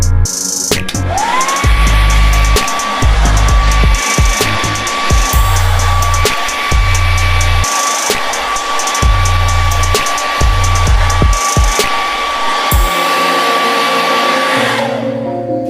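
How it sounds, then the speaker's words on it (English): A blow dryer on high heat whirs loudly and steadily with a high whine while styling a fringe, with rhythmic thumping and rustling of handling close by before it shuts off. "then I take my blow dryer on high heat."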